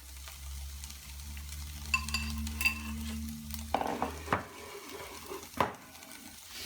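Seasoned chicken pieces being mixed with half an egg in a bowl, a low hum for a few seconds, then wet squelching stirs with scattered clinks of a utensil against the bowl.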